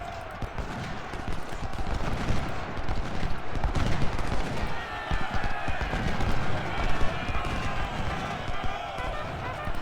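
Cannon and rifle fire rattle through a Ultimate General: Civil War battle at Chickamauga, a dense, continuous crackle of distant musketry with rolling thumps, steady and moderately loud for ten seconds, with someone talking over it.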